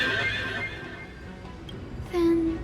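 A horse neighs with a distorted, corrupted tone in Honkai Star Rail. It is a short, faint whinny over a low ambient background.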